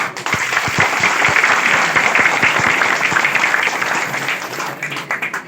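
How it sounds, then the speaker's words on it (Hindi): An indoor audience at a Tallwin Life business meeting in Hazaribagh breaks into loud, dense applause that holds steady and then thins into scattered claps, with some voices mixed in. "मैं चाहता हूं कि आप सभी लोग आज अपने लिए ताली बजाएं।"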